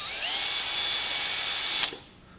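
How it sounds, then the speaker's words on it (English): A power drill bores a hole while a mower mount is fitted, running loud and steady for nearly two seconds before cutting off sharply into quiet. "We can go ahead and drill our next hole."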